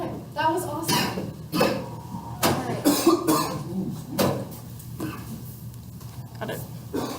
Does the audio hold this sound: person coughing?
yes